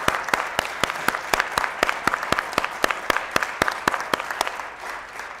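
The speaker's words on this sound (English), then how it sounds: "So let's give a round of applause and congratulations." Audience applause at the Nasdaq closing bell ceremony for StealthGas, a steady roomful of clapping with sharp, regularly spaced claps standing out near the front throughout.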